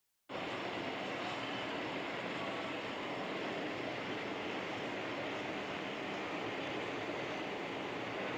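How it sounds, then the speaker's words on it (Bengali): A night train rushes past in the dark, a steady, loud roar of rail noise that starts abruptly and holds constant throughout, with no talking. "ট্রেনও চলে গেল, ট্রেন চলছে"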